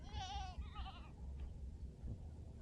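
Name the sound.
goats bleating, mother goat and kids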